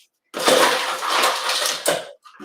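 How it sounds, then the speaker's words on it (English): Ice cubes tumbling into a cocktail stirring vessel already holding the liquor, a close, loud clattering rush of cubes that settles, followed by a couple of smaller clinks. "So now that we have all of our liquor in the stirring vessel, I am going to add ice."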